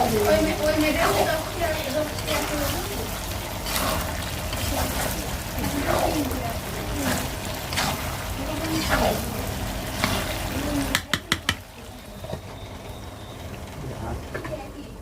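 Beef tripe (bhuri) fries in a pan with a constant, fairly loud hiss under someone talking. Near the end, a few sharp clanks ring out and the sizzle becomes quieter.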